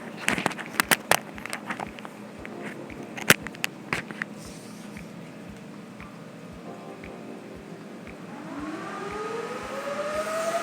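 An IBM X3650 server powering up at boot: a few sharp clicks and ticks come first, then its fans spin up into a steadily rising whine and airy rush, close by with no one talking.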